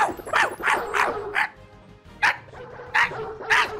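Dog weapon in a VR video game barking in a rapid series of sharp, loud, close barks, several in quick succession, then a pause and a few more.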